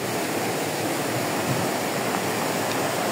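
A large river, the Tap Khola, runs high and swollen near a bridge site, giving a loud, steady broadband rush of water that fills the whole scene with no voices.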